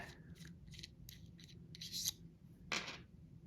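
Small, faint scraping and rasping ticks come in short bursts as the tip of a GVDA soldering iron is unscrewed by hand, with a brief louder scrape near the end.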